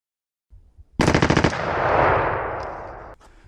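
A rifle with a forced reset trigger fires a rapid burst of about eight loud, close shots in quick succession, followed by a long, fading echo.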